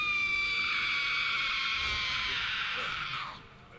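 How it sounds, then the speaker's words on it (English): A World of Warcraft boss in the Ulduar raid lets out a long, loud, piercing scream with steady high tones that holds for about three seconds before cutting off. "Here comes the scream."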